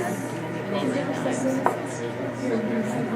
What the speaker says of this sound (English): take your knife and go down the outside of it